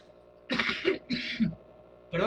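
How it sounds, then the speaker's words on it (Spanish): A man clears his throat and coughs in short, harsh bursts, three close rough rasps spread over about two seconds in a quiet room. "Perdóname, tengo un poco de tos."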